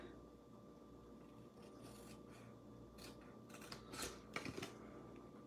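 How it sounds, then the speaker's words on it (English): Scissors cut through paper along a score line, quiet snipping and rustling that builds into a few sharper crisp cuts near the end, close and soft with no voices. "Cutting right up the score line."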